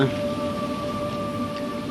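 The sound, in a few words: rain falling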